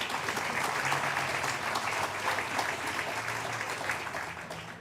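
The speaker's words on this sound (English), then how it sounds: "Let's give her a round of applause." An audience at a civic State of the City event claps in a warm, sustained round of applause that holds steady, then tapers slightly toward the end.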